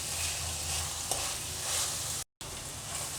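Onions frying in a pan, a soft steady sizzle with light stirring, quiet and close, broken by a brief gap of silence near the end; no voices.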